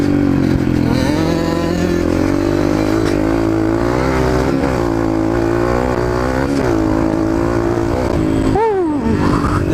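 A dirt bike engine revs loudly and close through its exhaust, holding a steady throaty drone with rising and falling pitch swells, then a sharp rev climb near the end.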